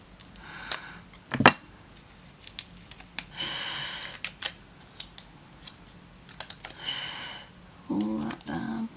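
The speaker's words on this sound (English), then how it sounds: "And now I'm just going to cut these off" Sculpted polygel nail pieces are trimmed off with a few sharp snips and clicks, scattered among faint rustling and handling noises.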